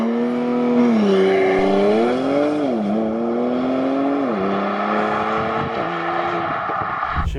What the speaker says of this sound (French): Est-ce que ça te dit un petit launch control en Macan GTS PPPO?